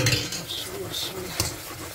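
A spoon stirring thick béchamel of flour and milk in a pan for lasagna, with soft scraping strokes, a faint sizzle and a few light metallic clinks, close and quiet.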